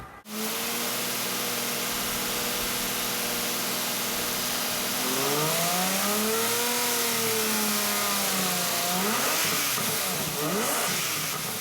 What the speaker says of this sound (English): the only music you're gonna want to hear is the song coming from that engine